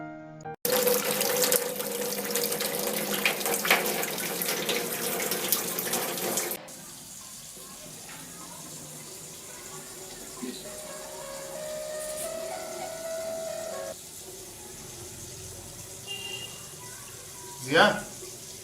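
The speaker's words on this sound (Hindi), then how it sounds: "बहुत देर से बह रहा है यार पानी" A household tap runs water in a steady rush, loud and close for the first several seconds and then fainter, while people talk back and forth over it.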